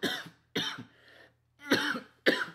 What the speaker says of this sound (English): That coughing suggests I'm ill.